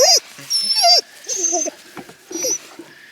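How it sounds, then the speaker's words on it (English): Excited dogs in the morning let out several short, high whimpers and whines in quick bursts with brief pauses between them, close by, with no talk. "You guys are some happy pups."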